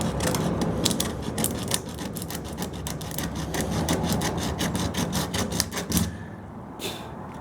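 Folded sandpaper rubs Bondo filler on a 1929 Chrysler hood in quick, rhythmic back-and-forth scratchy strokes, close and steady, ending with a brief pause and a couple of final passes.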